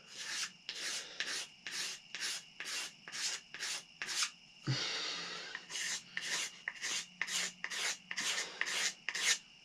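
A razor blade scrapes along a wooden tomahawk handle in a steady run of about twenty short, rasping strokes, close and fairly quiet, with a brief pause midway.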